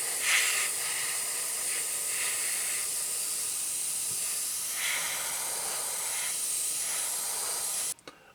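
Airbrush spraying paint onto the underside of a 1/48 Airfix Canadair Sabre F.4 model, a steady close hiss with slight swells in intensity, running alone until it cuts off near the end.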